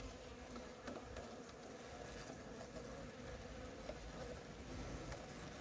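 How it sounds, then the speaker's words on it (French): Steady insect buzzing from many honey bees at an apiary, a dense continuous drone with no talking, holding at a fairly even level throughout. "j'aime pas voir toutes ces abeilles"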